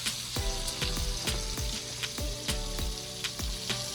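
Shrimp for spicy garlic shrimp fry in a hot pan, a continuous loud sizzle close up, broken by regular sharp pops and crackles throughout, with no voices.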